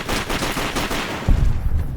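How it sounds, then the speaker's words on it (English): Gunfire in Fallout New Vegas, a rapid burst of repeated shots in a steady rhythm, loud and close, ending in a heavier thump. "Who the hell are you shooting?"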